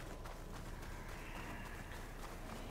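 Horse hooves clip-clop at a quick, steady rhythm in the video game Horizon Forbidden West, faint and continuous under a background wash.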